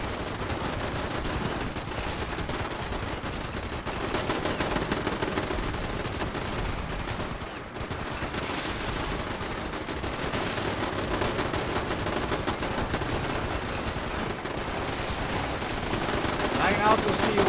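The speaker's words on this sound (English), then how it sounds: "since I have an explosive weapon, it's pretty easy for me just to kind of shoot in that general direction" Explosive weapon fire in the online game Fallout 76, a dense, continuous barrage of blasts and rapid shots that stays loud and unbroken for the whole stretch, with no pauses between bursts.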